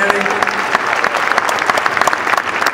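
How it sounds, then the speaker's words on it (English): Steady clapping from a crowd, dense and continuous throughout, fairly loud and close. "you can give yourself a round of applause"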